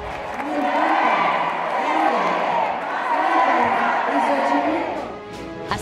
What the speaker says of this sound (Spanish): entre vivas y aplausos, Mancera parecía encabezar su último evento en el antiguo Palacio del Ayuntamiento